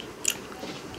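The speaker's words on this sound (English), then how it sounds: "I'm chewing gum." Gum being chewed close to the mouth, with two or three soft, brief crunchy bites standing out over quiet room noise.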